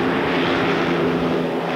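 Steady, dense roar of Lancaster bomber Merlin piston engines at full power, a continuous loud drone with a low propeller hum throughout and no talk.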